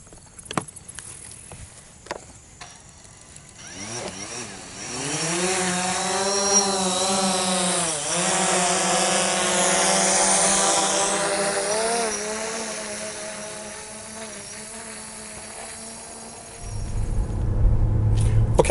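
A drone flies over a lake, its motor whine climbing and wavering in pitch as it passes overhead, holding steady for a long stretch before wind noise takes over at the end.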